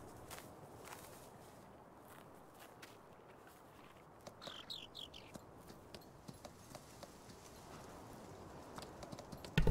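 Horse hooves clip-clop at a steady walking rhythm while riding a horse in the farming video game Farming Simulator 19, moderately close, over a soft ambient bed with a few sharper knocks near the end.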